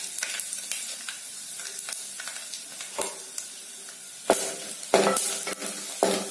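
Mustard seeds, urad dal and dried red chilli crackle in hot oil for a tempering, a close busy sizzle with scattered pops and stirring scrapes, growing louder in bursts toward the end.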